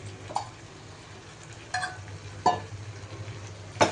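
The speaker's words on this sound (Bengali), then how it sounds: "এবার মশলার সাথে মিশিয়ে নেওয়া হবে মাশরুমগুলিকে ভালো করে" Boiled mushrooms are stirred into a spice masala in a pan for a Bengali-style mushroom curry. A low steady sizzle carries a few distinct spoon scrapes and clinks against the metal at irregular intervals.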